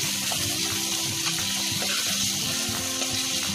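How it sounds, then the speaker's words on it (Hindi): Milk poured into a mushroom methi malai gravy in the pan, a steady soft liquid rush with faint sizzling, continuous and close, with no talking. "अब इसमें मैं दूध डाल रही हूँ"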